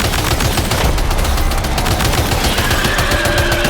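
Loud, sustained automatic assault rifle fire in the video game Death Stranding 2, rapid continuous bursts close up with no pauses.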